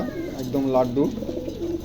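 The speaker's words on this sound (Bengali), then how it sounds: "চমৎকার 1 জোড়া কবুতর" A pair of pigeons coos in soft, rising and falling calls, near and fairly clear, while someone speaks briefly over them.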